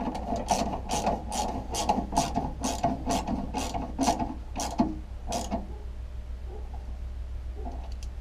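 A hand ratchet tightens 13mm bolts on a Nissan X-Trail T31 diesel during fuel filter work, making a close, loud run of about a dozen evenly spaced clicks that slow and stop, then a few faint taps.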